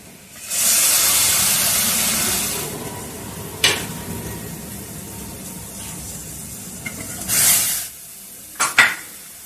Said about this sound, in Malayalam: ഇനി ഇതിലേക്ക് നമ്മൾക്ക് ഈ അരച്ചു വെച്ച മസാല, നനച്ചു വെച്ചിരിക്കുന്ന മസാല ഇട്ട് വേവിക്കാം.